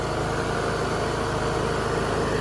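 The engine of a Troy-Bilt Pony lawn tractor runs steadily close by after a valve adjustment and an oil top-up, giving a continuous loud drone with no talk over it.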